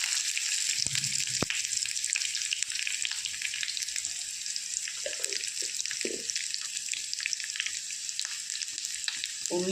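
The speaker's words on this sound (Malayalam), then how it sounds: "ഉള്ളി നന്നായിട്ടൊന്ന് മൂത്ത് വരണം." Chopped small onions fry in hot oil in a pan for a Kerala-style kovakka curry, giving a steady loud crackling sizzle throughout with a few faint clinks.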